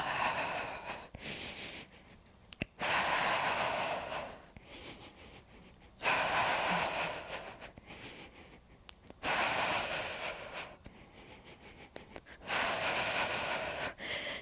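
Rhythmic breathing during a Pilates hundred exercise, repeated loud breathy exhalations in bursts of a few seconds separated by quieter inhalations, close to the microphone.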